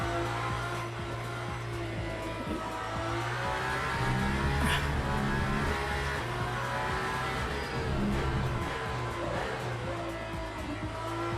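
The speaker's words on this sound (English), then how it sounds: "didn't feel that lock up. I heard it." Racing car in Le Mans Ultimate with a front tire locking up under braking while understeering, a steady loud engine drone with a brief squeal-like burst in the middle, no talk over it.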